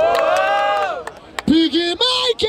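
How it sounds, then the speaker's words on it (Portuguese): Crowd at a Brazilian freestyle rap battle semifinal in Barueri, São Paulo, cheering, whooping and clapping loudly and close, with shouted voices rising over the noise in bursts. "Palmas pra essa batalha, quebradinha!"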